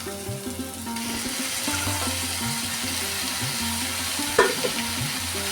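Boiled jute leaves tipped into spiced masala frying in a pan, a continuous sizzle with stirring and scraping, plus a brief sharper clatter near the end, no voices.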